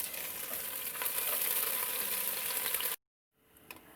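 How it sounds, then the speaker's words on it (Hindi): Loud, steady sizzling of chicken frying with garlic in hot oil for about three seconds, then it cuts off abruptly and quieter sizzling returns. "इसमें चिकन डालकर मज़ीद 2 मिनट भुनेंगे।"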